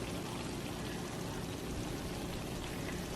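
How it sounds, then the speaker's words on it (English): Food sizzles steadily in a hot pan while mac and cheese with a honey ham topping is cooked, giving a dense, even crackle that holds at constant loudness throughout with no talking. "Sizzling."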